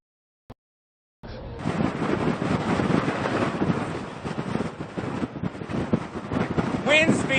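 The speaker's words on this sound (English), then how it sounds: "Wind speeds have been increasing." Strong wind in a blowing dust storm roars and buffets the microphone after a brief tap, a loud, continuous rushing that gusts unevenly, with a voice faintly under it.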